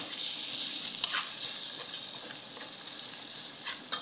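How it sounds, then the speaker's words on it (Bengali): Masala being stirred in a pan, frying with a steady sizzle and occasional spoon scrapes close by, with no talk. "আর একটু লাড়াচাড়া করবো"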